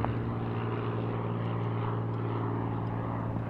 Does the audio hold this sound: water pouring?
no